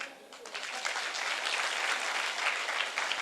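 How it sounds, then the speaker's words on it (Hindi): Applause from an audience at a talk, a fairly soft, dense patter of many hands that swells after a brief quieter opening and carries on steadily. "सर के लिए तालियां हो जाए"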